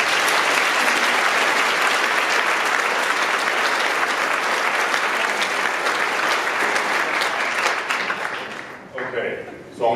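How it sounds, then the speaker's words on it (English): Audience applause at a bootcamp closing talk: sustained, dense clapping from a large crowd in a hall that holds steady for about eight seconds, then thins out and fades, with a voice coming in at the end. "a round of applause"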